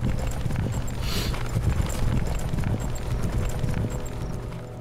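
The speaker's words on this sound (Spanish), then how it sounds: "Los caballos." Horses' hooves clip-clop steadily through a dense game soundscape in WarCraft III: Reforged, a continuous rhythmic trotting at moderate distance with layered battle and ambient effects behind it.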